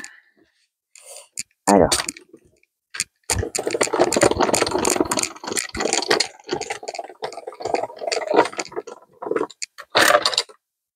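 A hand-cranked embossing machine from the Action store rolls an embossing folder sandwiched between a thick white plate and a thin plate, giving uneven bursts of grinding, creaking and ratcheting mechanical noise that run for several seconds.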